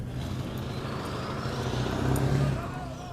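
A big pickup truck's engine runs with a steady low rumble while it struggles to get out of a tight spot, swelling briefly louder, with someone talking over it.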